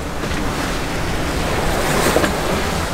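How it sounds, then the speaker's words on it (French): Ocean waves wash and rush steadily around a sailing boat, a broad continuous roar mixed with wind buffeting the microphone, fairly loud throughout. "C'est cool de barrer dans les vagues."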